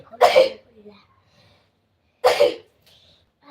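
Two harsh, explosive coughs sound close by, about two seconds apart, with near silence in between.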